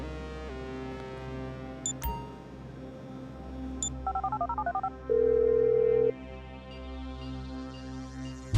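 Phone keypad tones in Grand Theft Auto V, a quick run of short dialing beeps followed by a single longer steady tone, set over a low in-game music and ambience bed.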